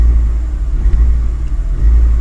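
A Ford car with a four-speed automatic gearbox idles in drive and is lightly accelerated, a deep, close, steady engine rumble with slight surges and no voices.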